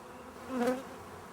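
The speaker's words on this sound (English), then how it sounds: "There are an enormous amount of bees in the hive" Bees buzzing at a diseased, propolis-heavy beehive, a single brief drone that swells and fades as one insect passes close, over a faint steady hum.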